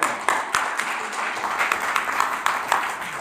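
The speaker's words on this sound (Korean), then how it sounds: "저 뜨거운 박수 한번 하겠습니다." An audience at an international forum on fair elections breaks into applause. The clapping is lively and fairly close, with bright, irregular hand claps filling the short stretch and staying at about the same level throughout.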